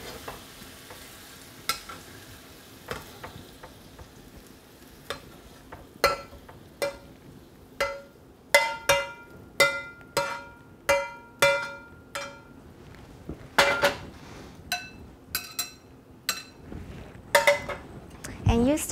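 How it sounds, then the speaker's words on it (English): Stir-fried mushroom, pork and pepper scraped from a pan into a bowl, with a long run of sharp, ringing metal-on-metal scrapes and clinks that start sparse and grow quicker and louder, over a faint sizzle. "I think it's almost done. Going to put it into this bowl."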